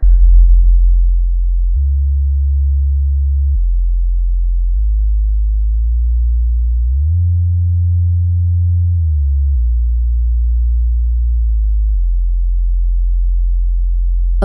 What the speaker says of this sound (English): Check subwoofer.